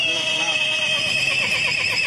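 A pony-like carriage horse in Hyderabad whinnies in reply, a clear nearby neigh with a steady high tone under talk, with faint hoof clops.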